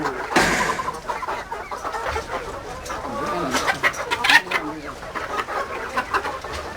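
Ornamental crested chickens cluck and chatter in a noisy yard, several birds calling at once with short irregular clucks, fairly close but moderately quiet.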